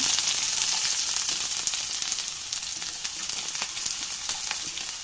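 Chopped shallots sizzle steadily in hot coconut oil in a pan, a loud continuous frying hiss with faint crackles and no voices.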